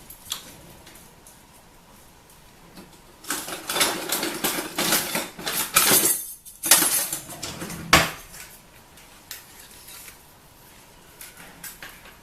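Bread dough is scraped out of a bowl in bursts of scratchy scraping and light clattering, loud for a few seconds in the middle and quieter at the start and end.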